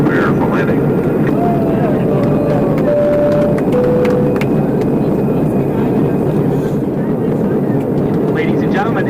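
Steady loud broadband cabin roar inside an American Airlines MD-80 (Super 80) jet on final descent, a continuous engine and airflow rumble that fills the whole span, with faint chimes and a voice making announcements over it.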